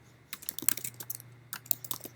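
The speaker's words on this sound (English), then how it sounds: "pressing that enter or return button on the keyboard activates that" Fingers tap on a computer keyboard in two quick bursts of close, crisp key clicks with a short pause between, the final strokes including a press of the enter key, over a faint low hum.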